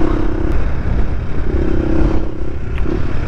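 A supermoto motorcycle on an afternoon ride, its engine a steady droning hum under loud rushing wind noise, close and continuous throughout.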